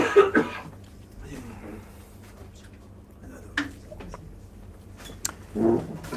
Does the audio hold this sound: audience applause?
no